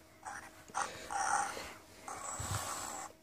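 An interactive toy puppy lets out a few short, raspy electronic growling bursts, close and fairly quiet, with a faint mechanical whir underneath.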